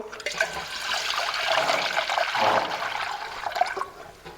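Water poured into a cooking pot over whole spices, cloves, ginger and green cardamom for shami kabab, a steady splashing, gurgling stream running close and fairly loud for several seconds with no talk.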